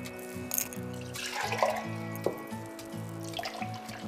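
Water is poured into a pan of Mughlai gravy for a restaurant-style cheese dish. It splashes and trickles steadily for a few seconds, close up, over a constant kitchen hum.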